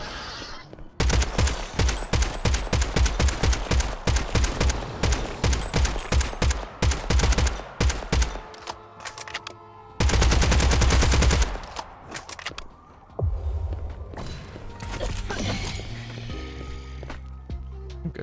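Rapid bursts of automatic gunfire from the arcade FPS Hellbreach: Vegas, loud and close, with dense sustained volleys, a short pause, another burst, then quieter scattered shots and game effects.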